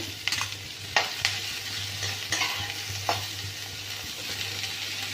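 Onion and capsicum sauté in a pan for chilli chapati, with a steady hiss of frying. A spatula scrapes and stirs several times in an irregular rhythm, close and clear, with no talking.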